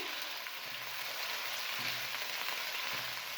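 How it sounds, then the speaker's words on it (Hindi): Chicken pieces fry in a hot pan for hot and sour soup, giving a steady, close crackling sizzle with a few soft stirring scrapes and no talk. "इसको मैं फ्राई करूँगी तकरीबन 7 से 8 मिनट के लिए"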